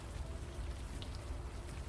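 Steady rain falls at night in the video game Unavowed, a soft, even patter that stays faint and continuous with no voices.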